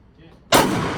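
An AR rifle fires a single sharp, loud shot at an outdoor shooting range, preceded by a quiet moment and followed by a ringing echo tail.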